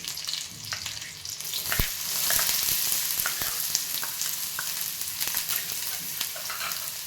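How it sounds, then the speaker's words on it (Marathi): Chopped onion and chili sauté in oil in a pan, a soft, continuous frying hiss that swells slightly midway, with scattered light stirring clicks and no talking. "आपण चांगला परतून घेऊ. आता कांदा चांगला परतलेला आहे."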